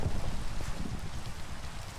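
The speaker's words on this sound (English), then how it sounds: "Hate the rain." Steady rain in Minecraft, a dense even hiss of falling drops with low rumbling underneath, continuous and fairly loud with no talking.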